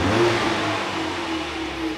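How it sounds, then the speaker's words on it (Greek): A Ford Mustang with a 2.3-litre turbo engine revs with its Maxhaust sound system switched off, giving a steady, fairly loud mid-pitched engine drone that holds throughout, no speech. "να δείξουμε πώς μπορεί να ακουστεί το αυτοκίνητο χωρίς Maxxos"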